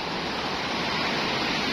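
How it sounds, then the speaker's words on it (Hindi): The fast current of the Indus River roars steadily and close by, a dense, continuous rushing wash with no voices over it. "ये है जी तेज़ बहाव।"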